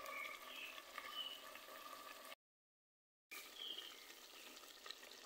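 Pieces of free-range chicken sautéing in a pan give a faint, steady crackling sizzle with small pops, cut off by a brief gap of silence before the frying resumes at the same level.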